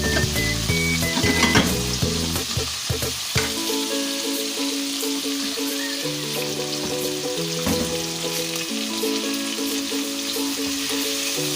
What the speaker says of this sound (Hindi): अब हमने इसको इतना करना है कि चिकन को फ्राई करना है कि इसका कलर चेंज हो जाए।